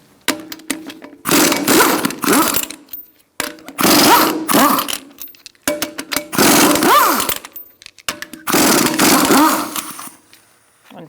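Power impact tool removing the lug nuts from the front wheel of a 2002-2006 Honda CR-V with a 19mm socket, four loud bursts of whirring and rattling spaced by short pauses.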